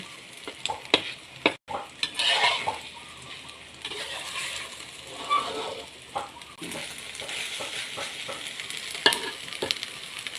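Tomatoes and other food frying in a pan, a continuous loud sizzle with repeated scraping and stirring clatters of a utensil against the pan, close by and steady for several seconds.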